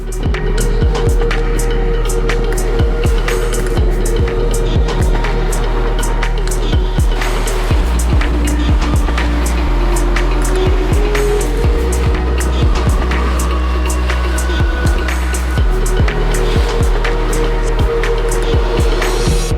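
A sailboat motoring under engine power alone on open water, with a loud, steady low engine drone, hull and water rushing, and frequent knocks and clatters over the full stretch.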